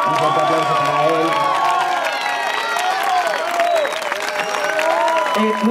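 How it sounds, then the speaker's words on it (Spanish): A theatre festival crowd applauds the popular-jury winner. Loud, sustained clapping mixes with cheering, whoops and children's shouts throughout. "Un fuerte aplauso para él."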